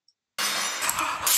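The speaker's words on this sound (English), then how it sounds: "They've all been shattered to itty bitty pieces" After a brief silence, plates shatter with a sudden loud crash, and sharp breaking and tinkling ceramic pieces fill the rest of the moment.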